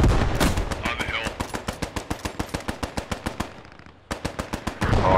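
Machine gun fire in the WWII shooter Post Scriptum: a long rapid burst of evenly spaced loud shots, a brief pause, then firing resumes, with faint voice chatter underneath.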